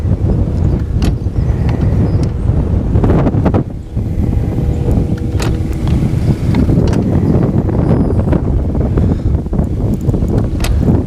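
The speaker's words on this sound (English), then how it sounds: "That wind is really ripping through here right now." Strong wind roars and buffets the microphone near a fishing spot by the water, a loud, constant rumbling rush with a brief dip partway through and no talking.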